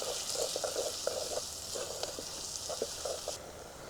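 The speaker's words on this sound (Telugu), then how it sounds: "ఇప్పుడు ఉల్లిపాయలు వేసుకుందాం. ఉల్లిపాయలు ఎర్రగా బాగా వేగాలి." Onions sizzling in hot oil with cloves and cardamom for a boneless chicken gravy, a steady close frying crackle with brief pops and spatters throughout, no voices.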